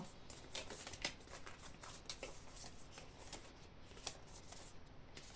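Tarot cards being shuffled and handled in a quiet room, a continuous run of soft riffling and flicking with a few sharper snaps, close up and with no voices over it.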